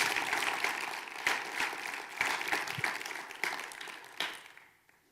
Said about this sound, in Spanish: Dele un aplauso fuerte al Espíritu Santo.